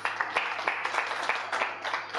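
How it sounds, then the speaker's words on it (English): Applause for Honda's marketing and sales director at the Chandigarh launch of the Honda Highness motorcycles: a crowd claps steadily and fairly close, with dense uneven hand claps and no pause. "Give him a big clap"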